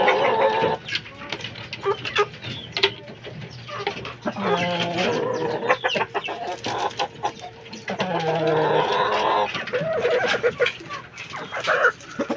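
Young fighting roosters, stags, cluck and squawk continuously near and far in a busy farmyard chorus, with overlapping calls rising and falling.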